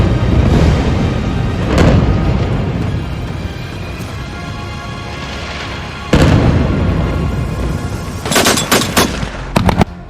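Air strikes and explosions in northern Gaza: loud, continuous rumbling barrages with sharp blasts around two and six seconds, then a cluster of rapid cracking bursts like gunfire toward the end, with no talk.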